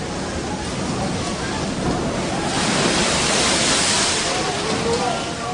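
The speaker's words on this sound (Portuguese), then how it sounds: "E as ondas batiam com força no barco, porque o vento soprava contra ele." Wind-driven waves on a lake pound hard against a boat, a loud, continuous roar of rushing water and gusts that swells slightly midway.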